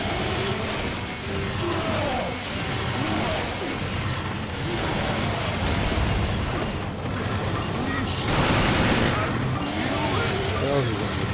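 Pulse grenade explosions in Resident Evil Revelations Raid Mode, Abyss stage: repeated booming blasts amid dense, continuous combat noise, with game voices and chatter mixed throughout.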